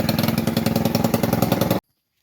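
A small Gator 50 engine runs loud with an exhaust leak, a rapid, harsh, pulsing putter close by that cuts off abruptly near the end.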